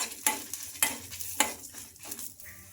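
Dried red chillies and lentils fry in a pan, with a soft sizzle under repeated scraping stirs that come in close, evenly spaced strokes, no voices.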